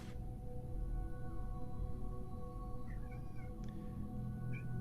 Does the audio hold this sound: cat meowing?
yes